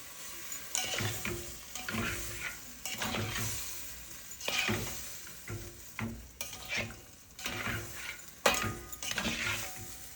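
Spaghetti being turned in a pan with sautéed onion and spinach, soft sizzling broken by repeated rhythmic stirring and scraping strokes at close range, with no speech.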